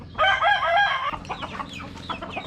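A fighting rooster kept as a breeding cock crows once, loud and close, then gives a few rough clucks and calls.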